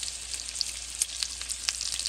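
Jäger schnitzel fries in a pan with a steady, moderately quiet sizzle and scattered pops and crackles, with no voices.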